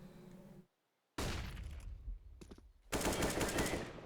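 A burst of rapid gunfire from a pre-fire in a professional Counter-Strike match, loud and close, broken by a short silence, then further sustained automatic shots with no talk.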